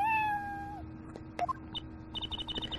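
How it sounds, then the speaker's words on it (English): A cat in the video game Apollo Justice lets out one long, clear, drawn-out meow, followed by a string of light, rhythmic chiming game effects. "Yes, there is a kitty. Hey, a kitty cat!"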